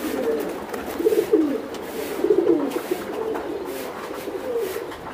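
Racer pigeons give several close, low burbling coos in separate bursts over steady ambient noise, with no voices present.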